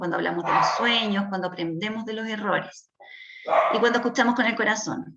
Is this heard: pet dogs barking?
yes